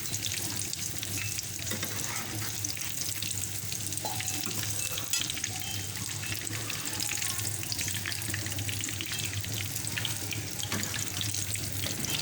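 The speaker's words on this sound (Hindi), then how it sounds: "अब मैं ये बर्गर तल रही हूँ, थोड़ा सा हल्के हल्के सेक लूँगी।" Chicken burger patties frying in a pan, a dense continuous sizzle and crackle that stays loud and close for the whole stretch, with no talking.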